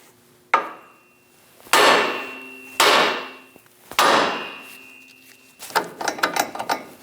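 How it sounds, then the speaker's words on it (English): Four sharp metal hammer blows on a Chevrolet Express steering knuckle to release the ball joints, spaced about a second apart, each ringing briefly, followed by a quick flurry of lighter clinking taps. "We're going to use a hammer to release the tension on our ball joints."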